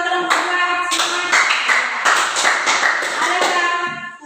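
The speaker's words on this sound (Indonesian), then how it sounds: "Sekali lagi kasih tepuk tangan buat kelompok 2." A classroom audience gives a student group another round of applause: steady, close clapping mixed with cheering voices, lasting about four seconds before it trails off.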